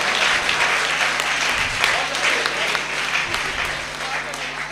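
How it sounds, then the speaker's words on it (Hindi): An audience at a Hindi poetry gathering claps continuously in a steady, full round of applause. A low hum runs beneath it. "खुलकर तालियां बजा सकते हैं आप लोग"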